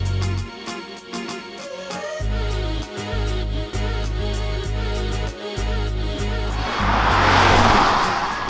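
A Hyundai Azera drives at night: a steady low engine and road hum holds inside the cabin, broken by brief dips, and a broad rushing swell builds near the end.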